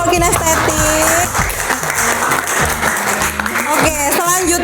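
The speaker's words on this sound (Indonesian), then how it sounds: "tepuk tangan dulu untuk kelompok kinestetik" An audience claps for a small group at a training session while music with a strong beat plays loudly over and under the clapping.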